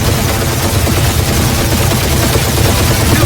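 Loud, continuous rapid gunfire from the video game Guardians of the Galaxy, a dense, unbroken rattle of shots that fills the entire stretch with no pauses.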